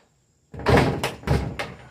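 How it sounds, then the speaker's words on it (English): The driver's door of a 2004 Ram 3500 5.9 Cummins truck, missing its handle, is worked open: after a brief silence come several loud close metallic thunks and rattles in quick succession. "This door is a pain to open without a door handle."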